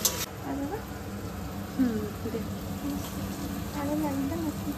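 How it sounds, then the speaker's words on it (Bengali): Cups and plates are rinsed under running water, a soft continuous hiss and patter that stays close and even, with a voice talking faintly over it. "আর এইদিকে টুকরো টাকরা কয়েকটা কাপ প্লেট ছিল আমাদের সন্ধ্যেবেলার, যেগুলো আমি একটু ধুয়ে দিচ্ছি"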